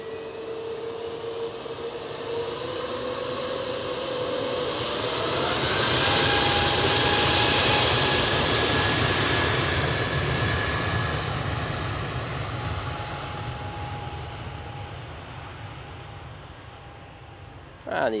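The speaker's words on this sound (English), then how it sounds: "Juneyao about to touch down" Juneyao airliner on final approach and touching down at Manchester Airport, a loud sustained jet engine roar swelling as it passes close, with a rising whine, then easing off, with voices talking under it.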